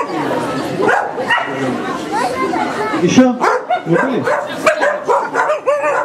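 A trained dog barks in short, sharp yaps during a guard-dog demonstration, close and loud, mixed in with steady talking from people nearby.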